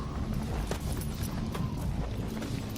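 Horse hooves clip-clop steadily on a medieval courier road, a relay post with hundreds of horses nearby; the hoofbeats are close and moderately loud, repeating in an even walking rhythm over a low rumble with no talk.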